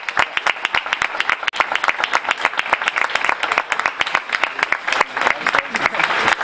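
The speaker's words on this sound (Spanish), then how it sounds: "Un aplauso." Award-ceremony audience applauding at a Pyrenees languages conference in Graus, individual claps sharp and distinct in a fairly quick irregular rhythm, close and loud, with some voices mixed in.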